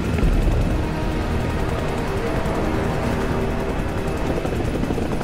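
A Little Bird helicopter flying in a movie scene, a loud steady rotor and turbine roar that fills the whole stretch, no voices.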